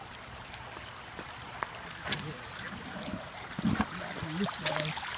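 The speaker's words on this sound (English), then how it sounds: "And this nice creek here. And the water. Pretty fast." A fast-flowing creek rushes steadily beside a big boulder in the rain, a continuous close hiss of water with small splashes and a few low bits of voice.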